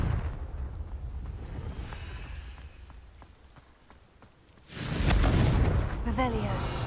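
A low rumble runs quietly before a Confringo blasting curse in the game Hogwarts Legacy erupts into a sudden, loud, sustained explosive roar about two-thirds of the way through, which stays heavy until the end.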